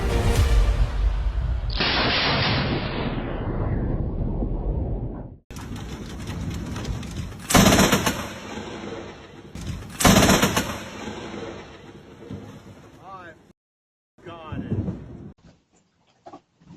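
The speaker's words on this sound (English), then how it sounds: "A blinding bolt of lightning tearing across the sky in Brandon was caught on camera" Loud cracks of thunder from a lightning strike during a storm in Brandon, a sharp burst followed by several booming, rolling rumbles that fade into quiet gaps.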